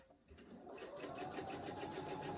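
A sewing machine stitching a fabric tissue box cover, starting up and running in a steady, fast, close mechanical whir for a short back-stitch run, with no talk over it.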